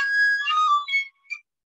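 A recorder-style flute in a school music lesson, a low note played badly with poorly covered holes, producing shrill, unsteady squeaky tones that waver and break, then a short final chirp before silence.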